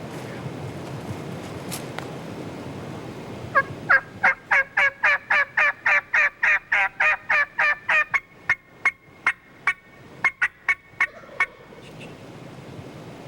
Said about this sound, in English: if you hear him gobble